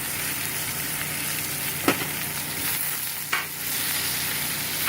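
Mushrooms and onions seasoned with salt and pepper browning in a hot pan for a beef pot roast, giving a steady, close, even sizzle broken by two brief clinks of stirring, with no talking.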